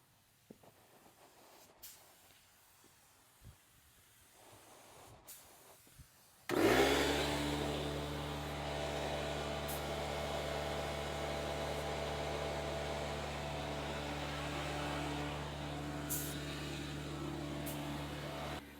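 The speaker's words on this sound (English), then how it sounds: "And we're fixing to get started spraying." A spray gun spraying gloss clear coat on a C10 truck starts abruptly after a quiet stretch and keeps up a loud, steady hiss with a low compressor hum underneath.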